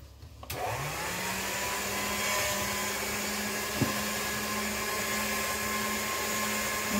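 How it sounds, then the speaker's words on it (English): Polymer clay rolled through a pasta machine gives a steady mechanical whir with a low hum that begins after a brief quiet start and runs unbroken, with one small knock partway through. "And then run it through your pasta machine."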